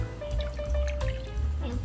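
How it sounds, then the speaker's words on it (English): Strained green tea trickles and drips steadily for a couple of seconds, a close, wet pouring sound with small splashes and a faint tonal hum behind it. "After 5 minutes, we filter the green tea soup"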